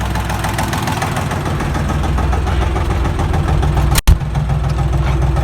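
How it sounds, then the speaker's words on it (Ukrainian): A tractor engine runs steadily in low reduction gear while towing a log hive, a loud continuous near rumble with a knocking texture that cuts out for a brief moment near the end, then resumes. "зачепив до трактора і зараз буду на понижених"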